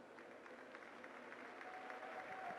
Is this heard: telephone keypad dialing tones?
no